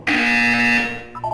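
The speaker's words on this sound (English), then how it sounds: "You will hear a buzzer." A sustained electronic buzzer tone from the Portal 2 video game sounds loud and steady for most of a second, then tapers off into a few short lower tones.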